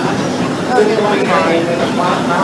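A Disneyland Railroad train slows to a stop at night, with a steady rolling rumble and a faint brake squeal partway through, all under a continuous announcer's voice.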